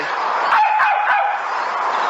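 A dog yips and barks in a few quick, bright bursts over a constant noisy background, sounding thin and somewhat distant.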